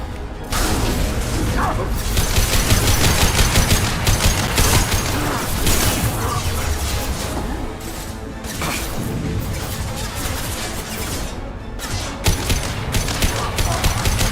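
Mass Effect 2 combat on Mordin Solus's loyalty mission: loud, continuous bursts of gunfire with crashes and impacts, dense and unbroken.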